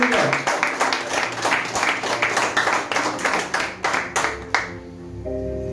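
Church congregation clapping together for roughly five seconds during a Spanish-language sermon service, a steady, fairly loud patter of hands that fades out at the end, with voices mixed in.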